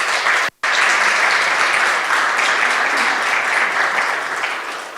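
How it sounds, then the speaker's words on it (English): An audience at a business conference in Moldova claps in dense, sustained applause, broken by a split-second gap near the start, then steady and fading slightly at the end. "Esteemed audience, please join me in giving a round of applause to our"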